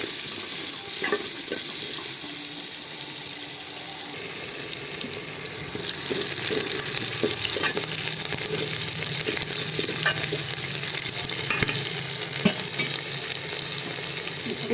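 Chopped onions fry in a pan for a tomato bajji preparation, giving a constant close hiss and crackle with occasional spoon scrapes and clinks, with no talking.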